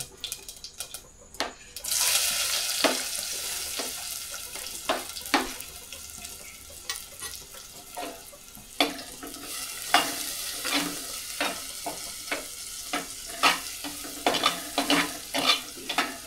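Onion fries in a clay pot on a traditional fire while a spoon stirs it, a soft continuous sizzle broken by repeated scraping clacks that grow busier and louder toward the end.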